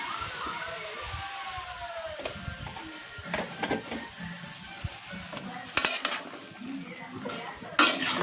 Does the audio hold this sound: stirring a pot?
yes